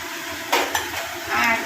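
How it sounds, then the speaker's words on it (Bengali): Spices cook for a chicken curry, with a utensil scraping and clinking against the pan in a few short strokes over a faint sizzle. "এদিকে মশলা কষানো চলছে"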